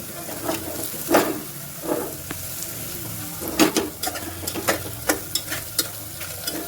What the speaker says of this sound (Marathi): थोडा कांदा आपला सोनेरी झाला